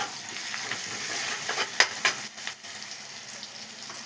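Coriander paste mixture being stirred in a frying pan, a steady soft sizzle with scattered scraping clicks from the spoon, loudest in a brief cluster near the middle, no voices.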